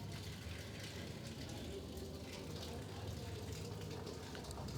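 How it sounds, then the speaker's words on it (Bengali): Rough river water and strong wind aboard a launch, a constant dense roar of rushing water and gusting wind filling the whole clip at a fairly low level. "দেখেন কি অবস্থা নদীর পানি, আর এতটা তীব্র বাতাস"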